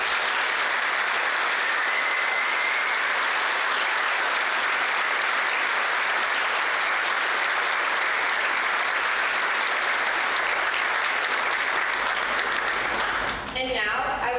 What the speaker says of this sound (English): Please join me in a round of applause for the new inductees.